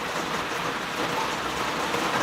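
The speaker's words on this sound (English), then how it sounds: "Just the sounds of rain and" Steady rain falls outdoors during bonsai wisteria root pruning, a dense, even hiss with no other sounds or voices standing out across the short stretch.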